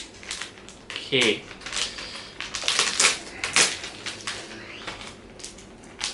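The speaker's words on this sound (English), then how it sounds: "I will just unwrap one for you guys to take a look." A packaged face mask from a National Day fun pack is unwrapped close by, with crinkly plastic rustles and tearing crackles in irregular bursts, while a voice briefly speaks.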